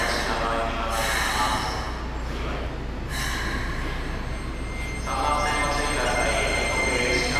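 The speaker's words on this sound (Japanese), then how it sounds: "とりあえずこの下り快特の2100型を見届け" A Keikyu 2100 series down rapid express train passes through a station on a day with snow still lying, its running noise and rail rumble broad and loud, with brief bursts and shifts as cars go by.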